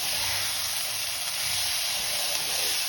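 Shahi garam masala powder frying in a pan on high flame for matar paneer gives a steady, even sizzling hiss with no talking.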